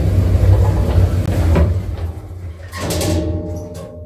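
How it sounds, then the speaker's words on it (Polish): Elevator doors sliding shut inside a Roblox building game, a short mechanical slide with a soft thud midway followed by a higher whirring tone, heard clearly over a steady low hum. "Zamykanie drzwi."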